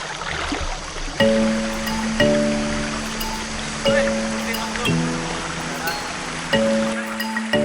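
Fresh river water in Halmahera streams and splashes steadily, close by, while sustained tones of music play over the flowing water.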